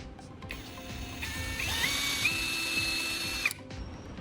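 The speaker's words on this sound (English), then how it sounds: "I'll use a drill to create small pilot holes in our newly filled spots" A power drill whirs for about three seconds boring small pilot holes into freshly filled hinge spots in wood, rising in pitch as it bites, then stopping abruptly.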